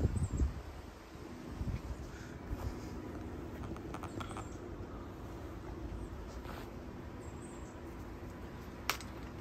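Wind blows outdoors and buffets the microphone with a low, steady rumble that is stronger at first and then settles into a faint, continuous rush.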